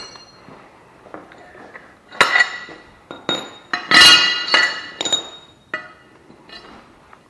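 Metal mower blades removed from a John Deere 636M zero-turn mower clank and clink as they are handled and set down, scattered sharp knocks with quieter gaps between, close and without speech.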